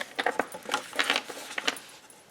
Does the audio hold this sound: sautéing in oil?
no